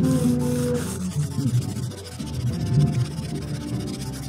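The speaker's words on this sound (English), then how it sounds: "I kind of just hit it a little bit more with a really old 1000 grit sandpaper just along the edge here" Old, worn 1000 grit sandpaper is rubbed along the fret edges of an Ibanez RG80F guitar neck, making a soft, continuous scratchy rubbing close by with a steady back-and-forth texture.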